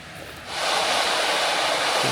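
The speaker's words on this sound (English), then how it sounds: "Complete with its own little waterfall." Rushing water from a small waterfall beside a mountain campsite in the high Sierra swells in after a quieter start, then holds as a loud, steady, close hiss with no voices.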